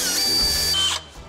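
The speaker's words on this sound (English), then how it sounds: "So I guess we gotta drill a little more to get all the way through." A power drill bores through a metal part on a Case 9350 Steiger tractor, whining loud and steady at close range for about a second before it abruptly cuts out and leaves a quieter hum.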